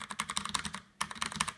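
Rapid, close clicking of keys typed in quick bursts on a Freewrite digital e-ink typewriter by Astrohaus, with a short pause midway before the typing resumes.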